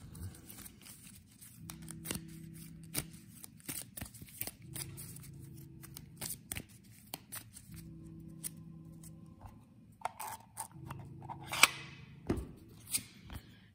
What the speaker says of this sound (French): J'en profite pour mélanger ma défausse.